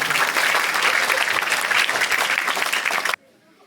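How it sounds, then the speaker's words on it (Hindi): Classroom of students clapping loudly together, a dense burst of applause close by that cuts off abruptly near the end. "तो चलिए एक बार जोरदार ताली हो जाए"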